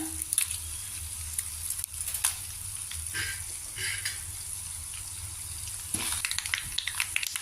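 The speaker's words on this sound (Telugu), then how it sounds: "పచ్చిమిరపకాయలు పోపు వేగింది." Mustard seeds and green chillies sizzle in hot oil as a tempering for tomato coconut chutney, a steady close crackle with popping bursts and a louder flare of spattering near the end.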